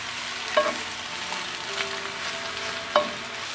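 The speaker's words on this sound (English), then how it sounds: "I have 10 ounces of spinach that I'll saute in my frying pan with one pat of butter." Ten ounces of spinach sauteing with a pat of butter in a frying pan: a steady, soft sizzle with a few brief clinks of utensils against the pan.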